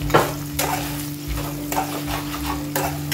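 Green chillies fry in oil in a pan for fish curry, a constant close sizzle with periodic stirring swishes and a low steady hum underneath, no speech.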